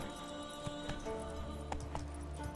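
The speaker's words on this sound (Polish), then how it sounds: "Dobra, złazimy z tego konia," Horse hooves clip-clop steadily as a horse is ridden in The Witcher 3 game, close hoofbeats over a busy background of game ambience and music tones.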